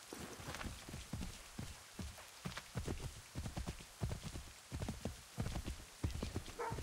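Horse hooves in Assassin's Creed III clip-clop in a steady, quick trotting rhythm, clear and close, with no talking.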